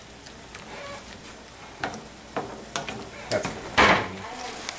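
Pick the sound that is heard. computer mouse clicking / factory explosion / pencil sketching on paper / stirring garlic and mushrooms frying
stirring garlic and mushrooms frying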